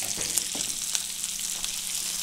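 Raw onions sauté in a pan, a close, steady sizzle and crackle with a few sharp pops and stirring clicks over a short stretch, no talking.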